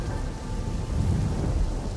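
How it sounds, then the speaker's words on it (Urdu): A thunderstorm sound effect with heavy rain pouring steadily and deep thunder rumbling beneath it, dense and continuous throughout, with no voices. "خوفناک شور سے بارش برس رہی ہے"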